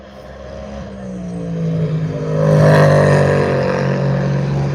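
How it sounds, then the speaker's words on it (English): A race car passing trackside at night at Le Mans, its engine note building in a loud, rising drone as it approaches and sweeps by close. "That car sounds amazing."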